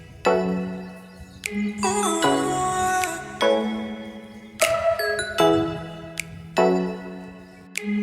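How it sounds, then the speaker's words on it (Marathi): A temple bell at Somnath Maharaj temple is rung again and again, giving about seven loud, bright strikes whose long ringing tones overlap and decay between hits. "माझी बहीण आणि छोटी बहीण एक एक करून घंटी वाजवणार आहे। या घंटीचा खूप मोठा आवाज येतो।"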